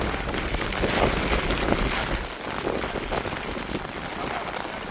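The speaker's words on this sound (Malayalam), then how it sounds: "നല്ല മഴ തുടങ്ങിയിട്ടുണ്ട്." Heavy rain pours on a hilltop at Paithalmala, a dense, continuous roar that holds steady throughout with no voices.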